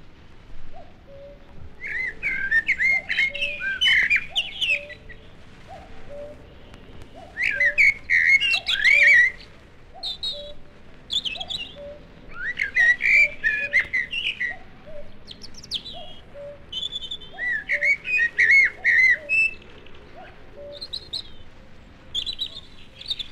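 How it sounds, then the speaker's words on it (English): A cuckoo calls in a British wood in April, its low two-note call repeating steadily and faintly in the background while nearer songbirds pour out loud, bright warbling phrases in bursts. "cuckoo also arrives in April and can still be heard calling in some woods"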